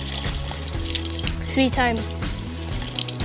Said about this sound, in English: So first you turn on the tap